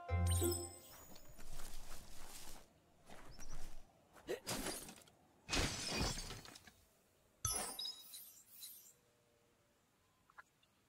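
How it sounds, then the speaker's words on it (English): A wooden box is smashed in the video game Biomutant, with several bursts of cracking and shattering debris in quick succession, loud and close, tapering into scattered tinkling bits and quiet. "You shouldn't worry about smashing up the box."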